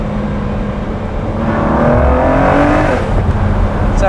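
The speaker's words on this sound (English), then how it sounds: "So I really felt the turbos kick in right there." A Ford GT Carbon Series twin-turbo engine heard from inside the car as it accelerates hard, a loud steady drone rising in pitch with a surge of power and a whooshing lift partway through.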